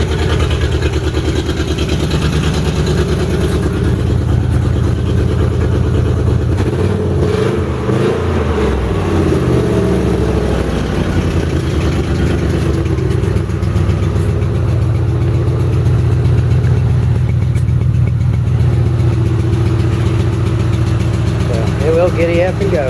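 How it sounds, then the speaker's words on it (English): A Ford Explorer engine with an exhaust leak idles steadily and loudly, with a rough mid-pitched rumble while people talk over it. "Definitely it's got an exhaust leak."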